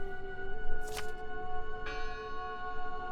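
Church bell tolling in the horror game Draugen, two clear strikes with long ringing overtones sustaining between them, at moderate distance.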